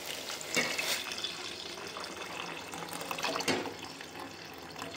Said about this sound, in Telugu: నెక్స్ట్ మనం కాచి చల్లారి పెట్టుకున్న పాలని యాడ్ చేద్దాం.